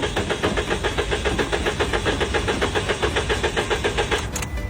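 A car's starter cranks steadily over and over with a rapid, even rhythm while the engine refuses to catch after a fill-up. It is loud and close, then cuts off abruptly near the end.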